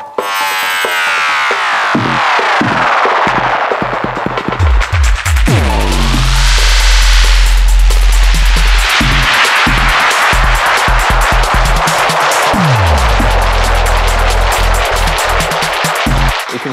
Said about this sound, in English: So the spiral is like a tape delay that's gone bananas